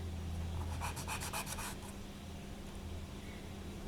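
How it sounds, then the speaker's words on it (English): Sanding the top of a black and white polymer clay poppy earring, a faint close rubbing rasp in quick short strokes that fades after a couple of seconds. "Now I'll also take the top and just sand it so that it exposes that."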